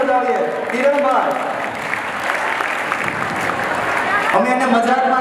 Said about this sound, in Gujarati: જોરદાર તાળીઓથી એમને વધાવીએ.